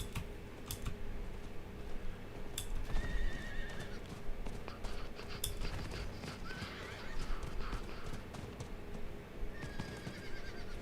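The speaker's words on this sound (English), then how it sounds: "What the hell, horsey?" A horse whinnies several times in Diablo 4 amid clip-clopping hooves, over steady game ambience and constant computer keyboard typing.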